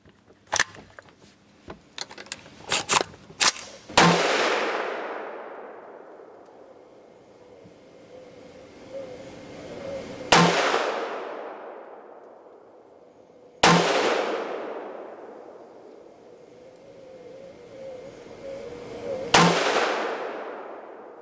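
A rifle resting on a Caldwell Accumax carbon fiber bipod fires four loud, sharp shots at a shooting range, each spaced several seconds apart with a long ringing decay, preceded by a few light metallic clicks of loading.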